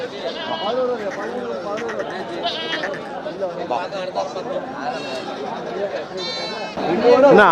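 Goats bleating at the Melapalayam goat market. Several short bleats rise from nearby amid constant crowd chatter and bargaining voices, with a louder bleat toward the end.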